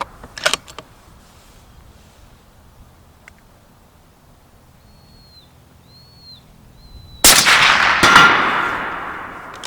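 Long-range precision rifle shots from a Bergara rifle at a steel target: a sharp shot near the start, then a long quiet gap with faint bird calls, and another loud report late in the clip with a ringing tail.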